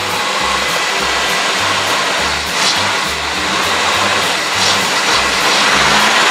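A 1958 Ford Edsel barn find idling, a steady close engine drone with a rhythmic low pulsing beneath a constant broadband hiss, loud and continuous, with no voices.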